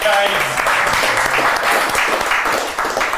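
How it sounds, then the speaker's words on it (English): A crowd applauds steadily throughout, dense clapping that stays loud and even. "It's a big round of applause for Dylan Hartley."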